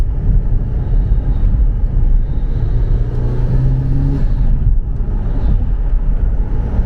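Mitsubishi EVO 7 engine driving at night in Bangkok, a steady loud low engine drone with a brief rising rev tone midway, wind buffeting over the microphone.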